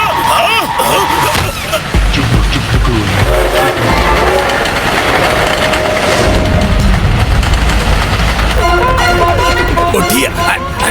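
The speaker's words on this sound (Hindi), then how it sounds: "अरे सर, वही घोस्ट ट्रेन है, उससे कोई एक्सीडेंट नहीं होता।" A cartoon ghost train rushes past, a loud, dense rumbling roar with rail clatter and tonal whistle-like notes, continuous for the whole stretch with no pause.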